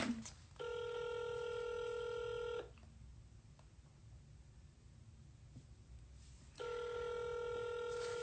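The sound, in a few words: telephone ringing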